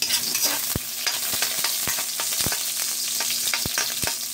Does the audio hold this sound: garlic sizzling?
yes